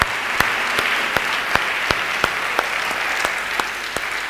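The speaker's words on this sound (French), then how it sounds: "Acclamons encore le Seigneur." A church congregation at a solemn convocation applauding the Lord, steady, dense clapping from many hands with sharper rhythmic claps punctuating it about every half second, loud and close.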